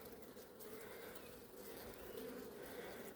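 Honeybees hum around a hive in a garden apiary, a faint, steady, low drone with no clear breaks.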